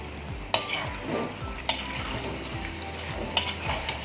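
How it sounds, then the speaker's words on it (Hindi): Mutton cooking in a karahi, sizzling steadily as it is stirred, with a few sharp scrapes or knocks of the spatula against the pan spaced out over the few seconds; no talking. "अब अच्छी तरीके से हम गोश्त को भून लेंगे।"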